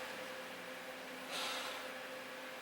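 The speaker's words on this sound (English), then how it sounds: "you can hear the fan is kind of noisy" A CPU cooling fan on a 3-pin header in a custom-built PC runs at full speed with a steady whirring hum and broad airy hiss, constant and close, with a brief louder breathy swell midway.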